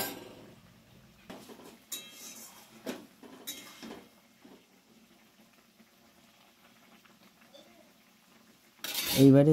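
A utensil scrapes and clinks against a pan while stirring spicy eggplant curry dressed with sugar, raw mustard oil and chopped coriander: a few close metallic scrapes early on, then quiet, ending in a sudden loud burst of noise.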